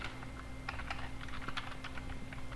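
A computer keyboard being typed on in quick, irregular bursts of close keystrokes over a steady low hum, with no one talking.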